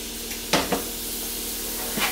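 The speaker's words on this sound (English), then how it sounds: "So I'm going to add a little bit of my milk." Milk hits a hot pan where food is starting to brown, giving a steady hissing sizzle. Several short bursts of splashing and stirring break through the hiss. No one speaks.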